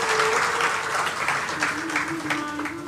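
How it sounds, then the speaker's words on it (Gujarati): An audience at a religious gathering breaks into vigorous applause, dense sustained clapping filling the hall at close range, with a voice briefly audible over it. "એકવાર જોરદાર તાળીઓ બજાવીએ."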